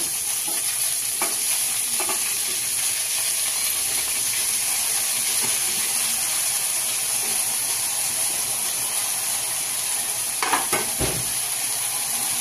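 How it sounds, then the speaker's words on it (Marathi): Washed amaranth greens and onion frying in a pan, a loud continuous sizzle and hiss with a few sharp spatula scrapes near the end; no speech. "भाजी टाकली की भाजून घ्यायची चांगली."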